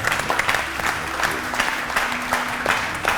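Studio audience applauding a guest arriving on a Ramzan television show, a dense steady burst of clapping with a few brief voices under it.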